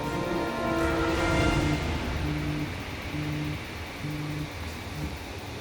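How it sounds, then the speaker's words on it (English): Rain falling in the video game Hitman 3, a dense steady wash of noise with low tonal music tones pulsing beneath it. "I hope you like the rain, 47."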